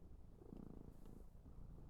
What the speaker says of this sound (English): if you can hear purring.